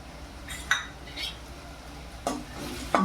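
Green beans being stirred with spices such as turmeric and garam masala in a pan, giving a few short scraping clinks of a spoon against metal over a quiet background, with no voices.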